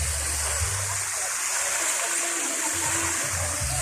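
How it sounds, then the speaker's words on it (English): Waterfalls at a resort pour steadily from one into the next, a continuous broad rushing wash with low rumbling splashes underneath, close and constant throughout. "Waterfalls. Just goes from one to the other."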